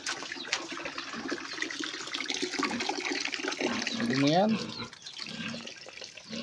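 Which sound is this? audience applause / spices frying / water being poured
water being poured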